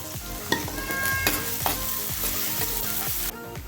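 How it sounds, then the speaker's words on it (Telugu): Finely sliced onions and two green chilies fry in oil for Chicken Changezi, a loud close sizzle with rhythmic scraping and clanks of a spatula stirring against the pan. "ఇవి ఉల్లిపాయలు రంగు మారే వరకు ఫ్రై చేసుకున్నామండి"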